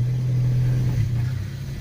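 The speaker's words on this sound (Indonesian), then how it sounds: "Kondisi mesin masih sangat agresif," Datsun car engine running and revving, a steady loud mechanical drone with a strong low hum that swells slightly mid-way and eases toward the end, close by with no talk.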